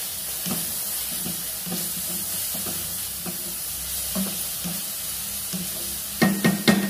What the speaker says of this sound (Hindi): इसमें चला जाएगा हमारा जिंजर गार्लिक का पेस्ट, जब थोड़ी सी प्याज पक जाए